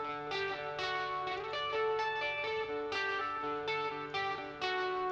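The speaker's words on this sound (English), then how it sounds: "it was quite a clean sound through a Fender Twin" A clean, bell-like electric guitar through a Fender Twin amp rings out in chiming plucked notes and chords with long sustain, steady and close, with no voices.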